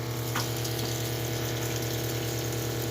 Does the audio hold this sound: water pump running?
yes